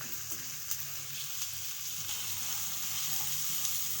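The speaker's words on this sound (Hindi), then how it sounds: "प्याज को हमने गोल्डन कलर आने तक फ्राई कर लेना है।" Sliced onions frying in a pan, a steady close hiss and crackle of hot oil with a few faint tapping stirs, no voices.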